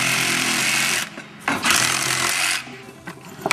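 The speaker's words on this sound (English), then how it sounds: "I'm going to cut these 2 lengths of wood to run along the sides of our main platform board" A power tool cuts two lengths of wood meant to run along the sides of a main platform board, giving two loud, sustained rasping bursts with a short pause between them and quieter shop noise after.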